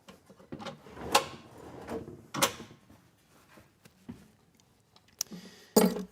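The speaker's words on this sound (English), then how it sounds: "So you can see, I'm moving the drawer. There's no rattle." A drawer in a camper van build, fitted with a marine slam latch locking bracket, slides open and shut several times, producing a few distinct knocks and soft sliding bumps with quiet pauses between and no rattle.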